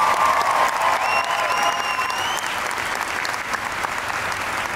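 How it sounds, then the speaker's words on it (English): A large audience at the D23 Expo 2017 concert applauds loudly and steadily, with a few whoops and whistles rising above the clapping. "give him a round of applause"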